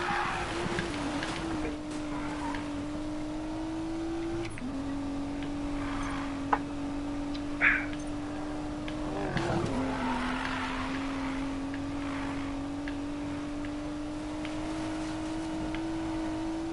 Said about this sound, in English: On dirt, man, I come out here and drift my ass off.